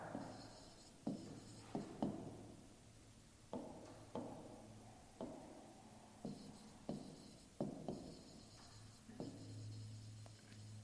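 Pen or pencil writing numbers by hand during a class 5 maths lesson, a quiet series of short scratchy strokes and taps spaced irregularly over a faint steady hum, no talk.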